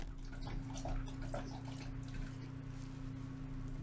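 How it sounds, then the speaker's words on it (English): A dog lapping water from a bowl, faint wet slurps and trickles repeating over a steady low electrical hum, close to the microphone. "you guys can hear Penny drinking her water."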